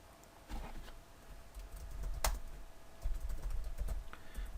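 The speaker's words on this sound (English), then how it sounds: "So I'm going to type the phrase South Mountain." Quiet typing on a computer keyboard, a soft, uneven patter of key clicks close by with one sharper tap midway and no speech.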